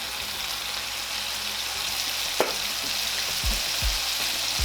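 Ground turkey sizzles steadily in a pan over medium heat, a constant bright crackle with a few soft clinks and stirring knocks, with no voices.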